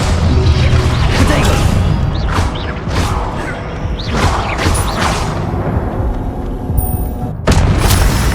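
A spell-casting effect from the Hogwarts Legacy video game, a dense magical whoosh with repeated bursts and booming impacts under a steady rumble, ending in a sharp louder strike near the close.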